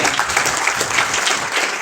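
A short burst of dense audience applause at an Alliance Clubs International district governor installation event, loud and continuous for under two seconds.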